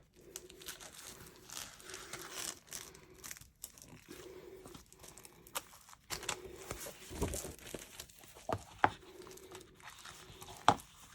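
Plastic wrapping torn and crinkled off a Stampin' Up paper pack, close and fairly quiet, with irregular bursts of crackling, rustling and ripping.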